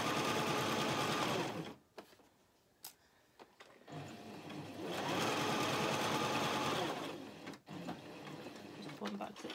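Sewing machine stitching a seam on a dress, two long steady runs of fast mechanical whirring with a brief pause between, close and loud, while a person talks over it.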